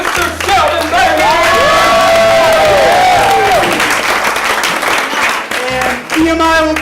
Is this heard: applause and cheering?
yes